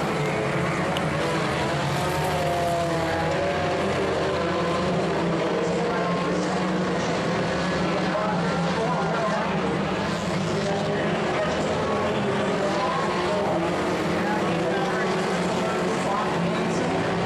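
Race cars roar around the dirt oval at Skagit Speedway, a steady loud engine drone rising and falling as the pack passes, with a commentator talking over it throughout.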